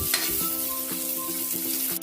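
Garlic and onion sauté in a hot pan, a continuous near sizzle broken by several light scraping strokes of a spoon or spatula, with no talking.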